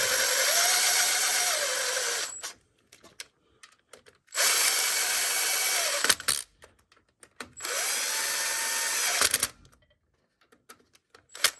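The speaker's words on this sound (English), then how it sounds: "I'm just going to draw them in with the impact driver, and then we'll torque them to spec." Three bursts of an impact driver, about two seconds each, drawing in the mounting bolts of a cam-driven fuel pump on a 5.3 engine. Each burst is loud and steady, with brief metallic clicks and clatter in the gaps between them.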